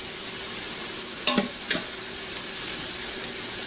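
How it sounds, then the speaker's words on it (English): Hash browns sauté in an Instant Pot with a steady, close sizzle and frying hiss, broken by two short scraping stirs partway through; no voices. "And then saute my hash browns."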